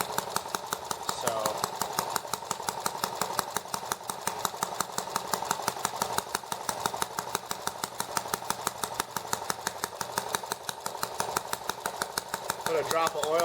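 A small ET8 engine runs steadily after repairs, its leaking intake valve puffing air back out through the carburetor, giving a fast, even chugging pulse that stays loud and close throughout, with a voice talking over it.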